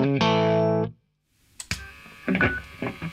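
An electric guitar chord played through a distorted amp channel rings loud and thick for nearly a second, cuts to silence, then short clicks and scratchy muted picking follow.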